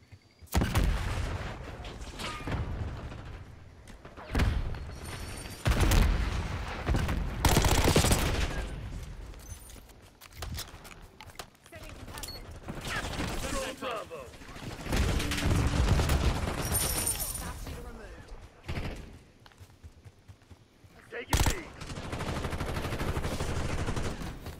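Gunfire bursts and explosive blasts in Call of Duty Black Ops 6, a loud rapid automatic fusillade with heavy booms, recurring in waves across the clip with brief lulls between bursts.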